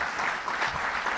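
Applause from an audience at a French public event honouring 49 project leaders, a dense, steady clatter of clapping hands lasting just over a second with no voices over it.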